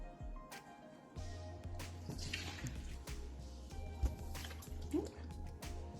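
Milk poured from a container into a bowl for bread pudding in a home kitchen, a soft liquid stream and light splashing heard close by, with someone talking over it and a few kitchen clatters.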